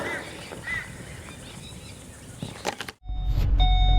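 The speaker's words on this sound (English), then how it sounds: "See, the window's actually moving down for some reason." Power window on a 2006 HSV Senator VE Commodore motoring down, a muffled whirring hum under cabin noise that cuts off abruptly, followed by a low rumbling drone.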